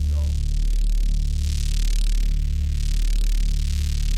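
A reese bass patch in FL Studio driven hard through FET drive distortion: a loud, sustained, buzzing low growl with gritty crunch, pulsing slowly in level across a few seconds.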